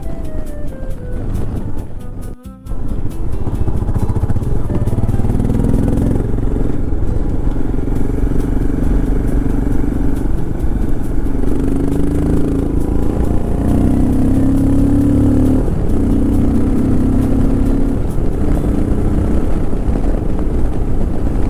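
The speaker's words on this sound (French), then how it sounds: "La moto est passée en mode full barouf." A modified Royal Enfield Himalayan 411 motorcycle engine roars loudly and continuously at close range after a brief cut, its droning pitch wavering as the throttle shifts.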